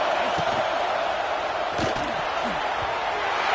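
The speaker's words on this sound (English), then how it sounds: "Third down play in the red zone, and this crowd is at fever pitch." Dense, loud football crowd roar during a third down play in the red zone, a constant wall of noise with a few sharp thuds and bursts over it, heard under commentary.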